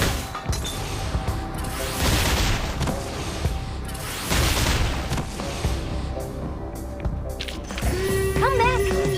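Gunfire and booming impacts in the video game Reverse: 1999, with repeated loud blasts and crashing hits in bursts over a busy game soundtrack, followed by a tonal chime near the end.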